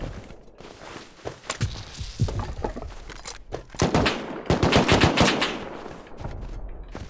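Gunfire in the video game Rust: scattered single shots followed by rapid bursts of automatic fire, sharp and fairly close, with footstep-like thuds in between.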